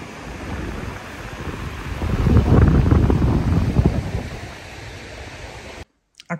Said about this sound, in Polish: Zobaczcie, jaka duża fala dzisiaj.